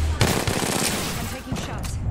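Loud, rapid automatic gunfire in a shooter video game, dense bursts filling the stretch close up, with a brief thinning before the shots resume.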